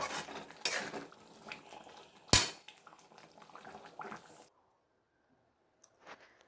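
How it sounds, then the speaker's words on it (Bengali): A spoon scrapes and clanks around a pot of chicken ghugni finished with chopped coriander, giving a few brisk metallic clinks and one sharp knock before it falls silent. "এই দেখো দিয়ে একটু নাড়াচাড়া করে এবার আমি নামিয়ে দেব"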